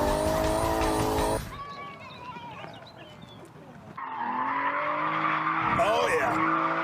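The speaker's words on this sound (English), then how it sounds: "And another championship-winning entry from Hammond in the Maserati" A Maserati drives hard with tires skidding and squealing, engine roaring loud and close, easing off briefly before surging again with screeching rubber.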